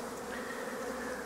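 A dense, steady buzz of honeybees swarming around an opened hive, loud and close, continuous with no pauses.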